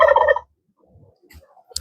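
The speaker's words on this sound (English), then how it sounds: "Our chickens are bantam cochins." A bantam cochin chicken gives a short burst of rapid, warbling clucks up close, followed by quieter, scattered clucks and rustling.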